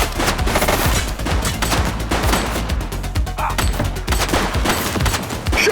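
Sustained gunfire in The Precinct police game, dense rapid bursts of automatic shots layered over one another, loud and continuous without pause.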